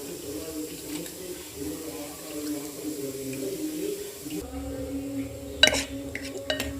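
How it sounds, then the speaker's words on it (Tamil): Cooked lentils are poured into a pot of rasam with garlic, tamarind, asafoetida, salt, coriander and pepper-cumin paste, giving a soft wet slosh over a low kitchen hum, then a few sharp clinks of utensils near the end. "பருப்பு நல்லா வெந்துருச்சு. இதை அப்படியே இதில் தூக்கி ஊற்றிடலாம். பருப்பை தூக்கி ஊற்றியாச்சு."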